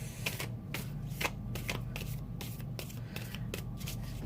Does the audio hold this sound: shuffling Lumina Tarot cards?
yes